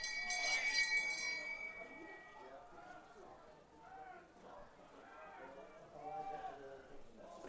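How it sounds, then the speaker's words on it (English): A bell rings with bright, sustained metallic tones at a boys' soccer game between OA and Reading, fading after a couple of seconds as commentators keep talking. "In case any of our listening audience and viewing audience picked up on that bell"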